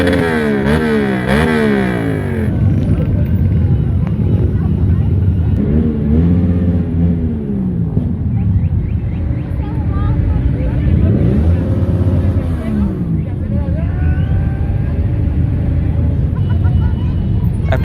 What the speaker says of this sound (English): It started with the sound of a few motorcycles passing by, but soon there were more and more